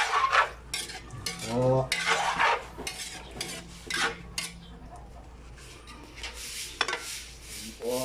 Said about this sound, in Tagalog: haluan po natin para magkulay.